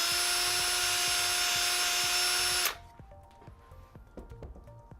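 A sandpaper drill whines loudly and steadily while cleaning old epoxy out of a golf driver's adjustable hosel. It cuts off abruptly after a few seconds, leaving quiet handling clicks and taps.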